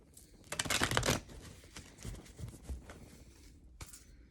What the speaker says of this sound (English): I'm not really good at shuffling, guys.